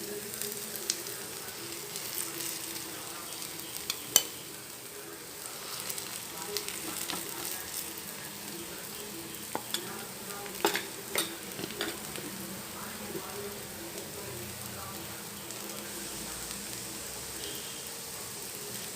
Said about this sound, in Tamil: இப்போ தோசை செவந்துருச்சு.